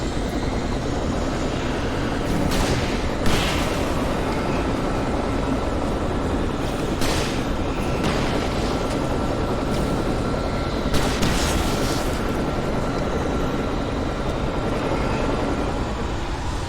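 Gunfire in Alan Wake Remastered, several sharp shots punching through a thick, continuous roar of loud game ambience, spaced irregularly across a long stretch with no talk.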